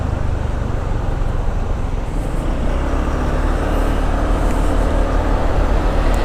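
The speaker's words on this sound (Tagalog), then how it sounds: "Napakadami ng sasakyan." Heavy road traffic rolls past in a continuous loud roar of engines and tyres, heard from a motor scooter riding to work, with no talk.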